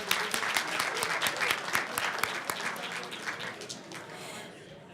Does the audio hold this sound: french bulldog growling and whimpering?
no